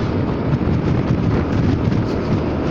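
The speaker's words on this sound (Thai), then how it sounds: "วันนี้ลมแรงแปลกๆฮะ" Strong crosswind roaring steadily against a rider's helmet on a Honda Forza 300 scooter ride, a dense continuous rush with no talking.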